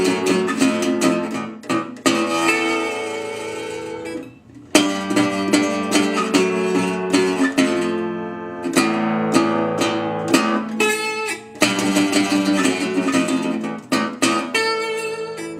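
Slide guitar plays the introduction of a song, Delta blues style, with quick plucked notes, sliding pitches and short pauses between phrases, close and clear with no talking.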